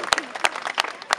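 Scattered applause from spectators at a historical battle reenactment, a few distinct hand claps spaced out in a thin, uneven rhythm.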